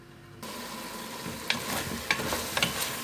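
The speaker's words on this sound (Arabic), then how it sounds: "دابا كيتقلى في الزيت ديالو" Leftover chicken and vegetables for a rice dish hit hot oil with a sudden loud sizzle after a quiet start, then keep frying steadily while a utensil scrapes and clicks against the pan several times.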